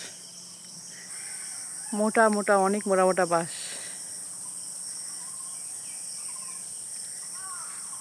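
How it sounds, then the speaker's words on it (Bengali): Crickets in a bamboo grove keep up a steady, high, continuous trill throughout, with someone speaking briefly over it near the start. "কিচিরমিচির একটা আওয়াজ জানি না কিসের আওয়াজ ঝিঝি কিচিরমিচির করতেছে"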